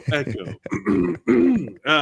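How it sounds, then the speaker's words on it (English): A voice clears his throat with rough, grunting rasps up close, mixed in with speech. "Clearing my throat on mic"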